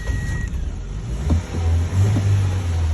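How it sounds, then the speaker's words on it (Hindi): A Toyota pickup truck with an engine fault is started, a brief crank followed by a low, steady engine idle that settles in and holds, with no talking over it. "यहाँ से मैं गाड़ी को स्टार्ट कर रहा हूँ तो गाड़ी जो है वो हमारी स्टार्ट हो जाएगी"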